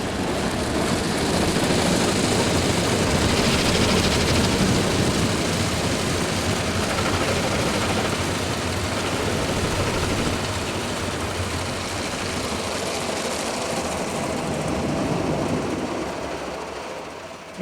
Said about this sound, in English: this machine does have quite a long wash cycle